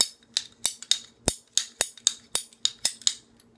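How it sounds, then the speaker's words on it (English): Ratchet PVC pipe cutter snipping through PE irrigation tubing, a series of about a dozen sharp, crisp clicks and snaps in an uneven rhythm, close up and alone. "It works great on PE tubing, and I think it's called a ratchet pipe cutter."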